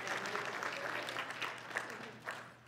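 Church congregation clapping together in a steady, dense wash of applause, moderately loud and sustained throughout, with faint voices mixed in.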